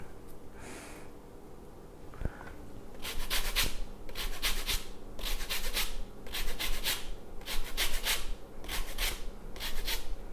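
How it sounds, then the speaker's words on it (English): A lemon scraped across a zester in a home kitchen, giving about seven close, rhythmic rasping strokes with brief pauses between them, and no talking. "And I'm gonna zest in some lemon."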